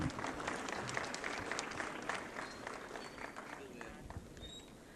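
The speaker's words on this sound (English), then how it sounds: "A round of applause for all of them, please." An audience at a seminar on smart cities gives a round of applause: a loud burst of many hands that slowly thins and fades, with some voices heard underneath.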